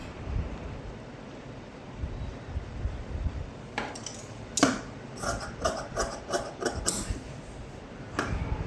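Fabric being cut into a strip for blouse lining, with several sharp scissor snips and crisp rustles of cloth clustered mid-way, close and fairly clear over a steady low background hum.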